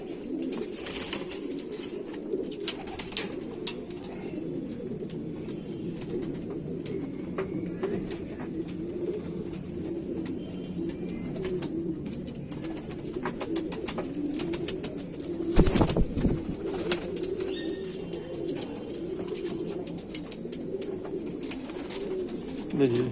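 Kamagar pigeons coo in a continuous low murmuring chorus close by, with occasional wing flutters and someone talking faintly in the background.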